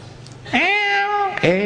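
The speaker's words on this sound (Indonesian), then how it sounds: "Kucing lucu." A cat gives two drawn-out, whiny meows close to the microphone, the first long and the second starting just after.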